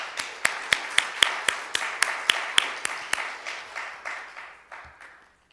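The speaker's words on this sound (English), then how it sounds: "So please give yourselves a round of applause." A church congregation claps in a slow, steady rhythm of about twenty distinct, loud hand claps that gradually fade and thin out toward the end.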